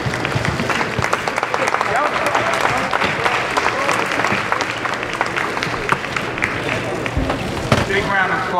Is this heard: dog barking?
no